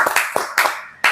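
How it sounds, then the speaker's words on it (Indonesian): A few audience members clap briefly for a guest named Pak Haji Rocker at a casual Indonesian talk event, a short uneven burst of hand claps with small gaps between them. "Boleh kasih tepuk tangan untuk Pak Haji Rocker."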